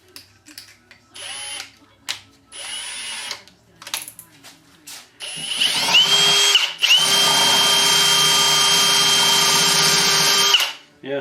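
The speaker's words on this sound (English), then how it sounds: "And then I've got my belt sander over there. I can do this part here. It'll be a lot quicker." Power tool working a thinline Telecaster guitar part, with a belt sander in the workshop: several short whirring bursts, then a long loud steady grinding run up close, with no talking.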